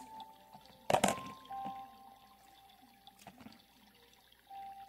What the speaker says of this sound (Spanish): Con agua para que baje la agüita